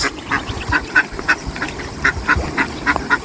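A domestic duck quacks repeatedly in short, clear bursts about every quarter second, fairly close, over a steady background of rushing water from a strong current.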